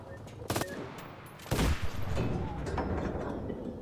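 Machine gun fire aimed at snipers in a shooting video game, two sharp loud bursts followed by a steady rumble of continuing fire and game noise.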